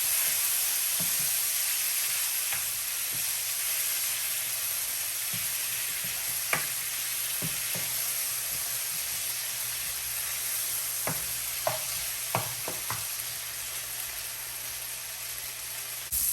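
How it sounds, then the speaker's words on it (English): Shrimp stir-frying in hot oil for chow mein, a continuous loud sizzle with intermittent scraping clicks and knocks from stirring, close and without talk. "now I'm gonna go ahead and add my shrimp. And I'm just gonna stir fry these"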